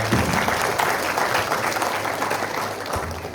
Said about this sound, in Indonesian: Kasih tepuk tangan dong buat mahasiswa.